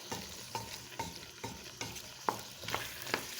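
Rice and vegetables stirred in coconut oil in a pot, with a close, steady rhythm of scraping spoon strokes about twice a second over a soft background sizzle.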